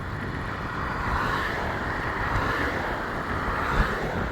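Headwind buffets the microphone while riding an ASKMY U15 MAX electric scooter along a bike path, a loud, steady low roar of wind noise with no talk.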